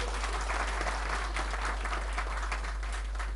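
Audience clapping hands during a Hindu kirtan at an ISKCON temple gathering in Phuket, Thailand: a dense, steady wash of many hands applauding together at moderate distance, continuous for a few seconds with no voices standing out.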